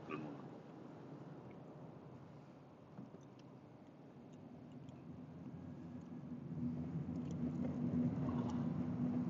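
A car passes on a wet road in the rain, its tire hiss and engine whir rising slowly from a faint distant rumble to nearer and louder.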